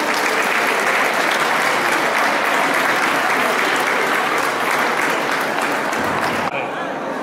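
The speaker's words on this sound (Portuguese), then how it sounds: "Palmas para ele." A crowd at a folklore festival applauds the world dance group of the Instituto Cultural da Maia, loud sustained clapping from many hands that fills the space, then cuts off abruptly near the end.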